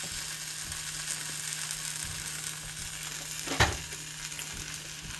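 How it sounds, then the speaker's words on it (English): Miso-coated rice balls frying in a hot pan on a stovetop give a steady, even sizzle, with one brief louder pop or scrape partway through and a faint low hum underneath; no one talks. "You fry it on one side."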